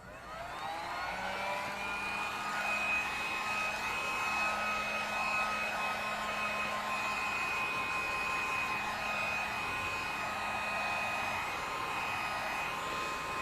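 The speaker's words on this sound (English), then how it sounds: "when in doubt, heat gun." Heat gun running continuously at a steady, moderate whine with a faint tonal hum, used on collage art for ATCs, unbroken throughout.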